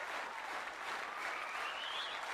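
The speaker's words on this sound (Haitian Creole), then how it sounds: "Un applaudissement, il mérite un applaudissement." Church audience applause continues as a dense, even clatter of many hands, with a faint rising whistle or cheer surfacing near the end.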